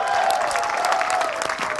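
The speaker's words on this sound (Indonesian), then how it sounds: "Tepuk tangan boleh buat kita semua?" Studio audience applause at a televised Indonesian talk show, dense steady clapping with a few whistle-like cheers running through the whole short burst, with faint voices mixed in.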